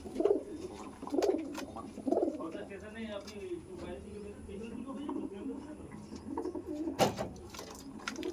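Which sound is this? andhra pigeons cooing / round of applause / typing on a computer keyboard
andhra pigeons cooing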